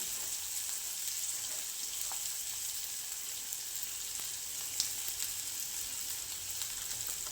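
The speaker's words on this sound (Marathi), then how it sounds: "आता हे छान असं कमी गॅसवरती लालसर परतून घ्यायचं आहे कांदा" Finely chopped onion fries slowly with asafoetida over a low gas flame, giving a soft, steady sizzle with scattered faint pops and crackles throughout.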